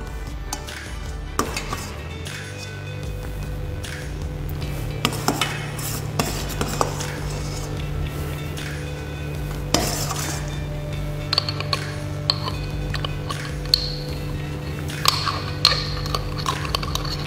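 Jam with sugar is spooned into sterilized glass jars, producing scattered clinks and taps of a spoon against glass over a low steady background hum, with sharper knocks recurring irregularly.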